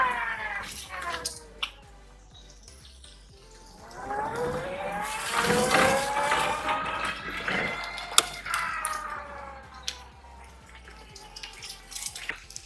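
A 2022 EW-46 electric scooter on a test drive, its motor whine rising and falling in pitched sweeps with road and suspension noise, moderately loud and steady with a few clicks, no talking.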